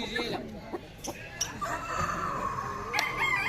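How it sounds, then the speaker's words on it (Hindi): A Shamo rooster, a heavy chicken breed, clucks and crows at a pet show, with several sharp calls and a drawn-out crow close by amid crowd chatter. "दुनिया में सबसे जो हेवियर साइज़ की जो ब्रीड है मुर्गों में वो ये है शामू"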